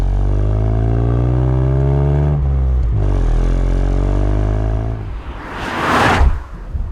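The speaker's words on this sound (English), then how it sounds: "Three-cylinder engines are still massively underrated in how good they sound, and this one, it sounds brilliant." Ford Puma ST three-cylinder engine revving, a loud steady tone with climbing and falling pitch as the revs change, then a sharp whooshing blip near the end, heard close and alone.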